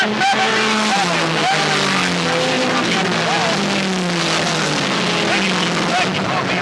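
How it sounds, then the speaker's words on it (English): Race cars roar steadily along the back straightaway of an oval track, a dense continuous engine wash under a PA announcer's commentary. "It's George Dixon down the back straightaway."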